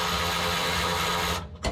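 A right angle drill runs steadily with a high whine for over a second while drilling a hole in a 1963 Loadstar truck, then stops, followed by a brief short burst.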